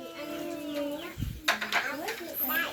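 Chickens clucking around a Thai farmhouse, short scattered calls with brief chatter breaking through steady background voices and farmyard noise.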